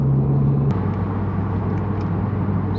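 A Lexus IS250 cruising on the freeway in sixth gear, with a steady low engine and road rumble droning throughout and a brief tonal shift early on.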